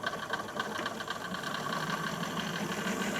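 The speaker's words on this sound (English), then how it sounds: "And now I can put my speed of my sewing machine a bit higher and just go all the way around." A sewing machine runs at raised speed, stitching around a fabric scrunchie in one steady, close mechanical whirr with a fast running rattle and no breaks.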